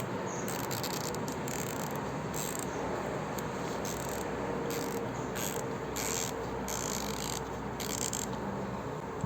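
KTC Nepros 90-tooth ratchet being clicked, a quiet fine rapid ticking in irregular bursts across the whole stretch, alone with no talk.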